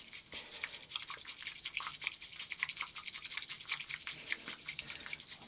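An electric milkshake maker whisks matcha tea with a thin, rapid, buzzing whir that pulses unevenly and stays moderately quiet with no voices.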